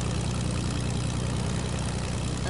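Propeller airplane engine in the Fortnite video game, a steady droning hum with a low pulsing throb that holds loud and unbroken throughout, with no voices over it.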